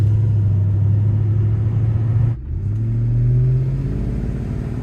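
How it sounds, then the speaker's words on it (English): A Mercedes-AMG M113K supercharged V8 idles with a steady, deep, close-up rumble and a hum that dips briefly midway, then settles back into its even drone, with no voices. "These M113 noises are completely normal on this engine and characteristic of its design."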